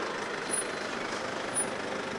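A shuttle bus runs nearby, its engine producing a steady, even rumble throughout with no distinct braking sounds standing out.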